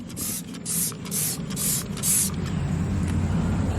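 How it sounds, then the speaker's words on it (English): Meguiar's Hot Rims chrome wheel cleaner sprays onto ATV metal in five quick hissing bursts, close up, over a steady low background hum. "you pretty much just spray it onto your metal"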